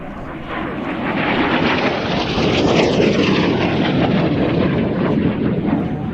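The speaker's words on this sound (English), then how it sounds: "And a very nice aircraft for you right now. The F-86 Sabre." An F-86 Sabre jet arriving at an air show roars past with a broad, rising engine rumble that swells to a peak midway and stays loud and sustained throughout.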